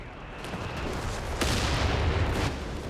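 Artillery and gunfire from a Company of Heroes 3 four-versus-four match, a dense continuous rumble of distant booms with a sharper blast near the middle and another toward the end, no talking.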